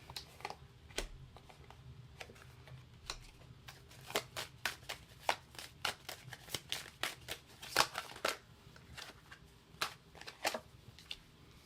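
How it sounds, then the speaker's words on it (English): Tarot cards being shuffled and picked from a deck, a series of soft papery snaps and flicks that grow denser midway, close and fairly quiet with no talk. "I just want to pick a few more cards"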